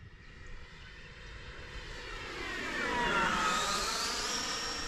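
A small RC Mini Viper model jet flies past at half throttle, its steady whine rising and sweeping in pitch as it draws closer and then passes overhead, loud against the outdoor air with no talking.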